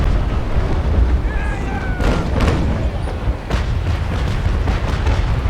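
A fireship blowing up in the naval sailing game Naval Action, a broad booming burst with crackling debris and rumble over steady battle ambience.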